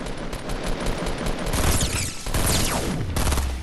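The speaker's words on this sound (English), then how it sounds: "Oh, he's shooting at me." Rapid automatic gunfire in the video game Fortnite, loud and close, with dense bursts of shots and a few sweeping whooshes overlapping, no voices.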